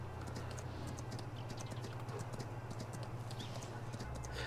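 Horse hooves clip-clop in a steady rhythm while riding in the video game Farming Simulator 19, with a constant low engine-like hum underneath and no one talking.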